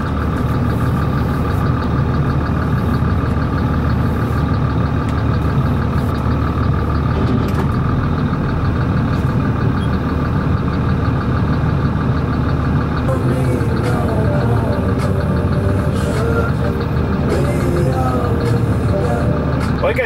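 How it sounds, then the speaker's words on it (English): A heavy Cummins diesel engine in a truck idles loudly and close by, a steady low rumble that fills the whole stretch without letting up. "the engine is really, really loud, like right here"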